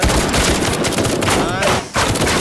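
Heavy blind-fire gunshots in the shooter Firewall Zero Hour, a loud continuous fusillade of close, rapid shots with a brief dip near the end, mixed with background game noise.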